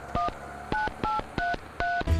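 Dialing tones from a landline telephone keypad, six or so evenly spaced beeps in a steady rhythm, loud and close, with a click at the end.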